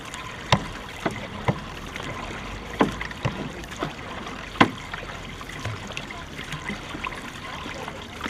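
Canoe paddles knock and splash in irregular strokes during a marathon canoe race, over a steady wash of flowing water, fairly faint and close.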